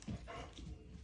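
A pet dog gives a short, faint whimper that breaks into a soft bark, heard close but quiet in a home during a brief moment.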